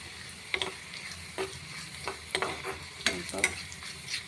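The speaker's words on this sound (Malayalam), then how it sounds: "ഒരടുപ്പിൽ കടുക് വറുക്കുന്നു." Mustard seeds frying in hot oil on one burner of a home stove, crackling and popping in scattered sharp bursts over a steady faint sizzle, close by with no talk.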